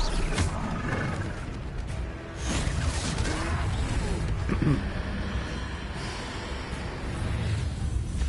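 A troll in Hogwarts Legacy lets out a deep, rough roar that rumbles and snorts on and off across several seconds, loud and close, with crashing game effects mixed in.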